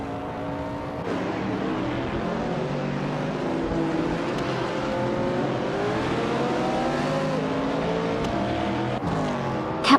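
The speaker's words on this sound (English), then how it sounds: "Hingle Kringleberry is driving a 1966 Shelby Cobra 427S." A 1966 Shelby Cobra 427S racing engine in a driving game drones steadily for ten seconds, its pitch climbing and falling through gear changes amid other cars, ending in a brief sharp knock.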